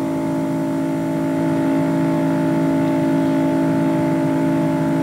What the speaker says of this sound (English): You could hear that motor just kept purring